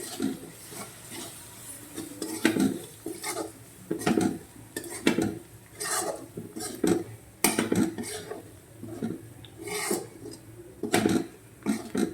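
Spoon stirring garam masala and turmeric into an eggplant bharta mixture in a pan, giving repeated scraping clinks and knocks against the metal with a faint sizzle beneath, steady and close.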